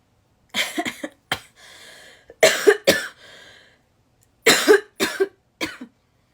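A person coughs in several harsh bursts, close and loud, with short breathy pauses between the fits.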